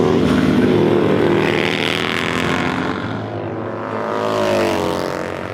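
Harley-Davidson bagger motorcycle racing on a track, its engine roaring loud and close throughout, with the pitch rising and falling as it accelerates and shifts.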